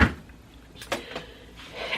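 Refrigerator French door opening and closing, a quick sequence of close thuds and soft knocks with a brief seal-like rustle, no one talking.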